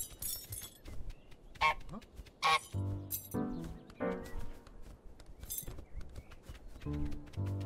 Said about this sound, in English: You're ready to honk at him.